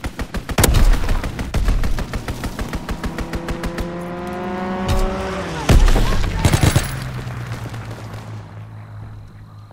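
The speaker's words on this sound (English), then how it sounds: "Fighter pilot inbound. Strafing the target." Rapid bursts of machine gun fire from a fighter plane strafing in Call of Duty WWII crackle loudly, then a plane's engine drones past, followed by further heavy gunfire and booms.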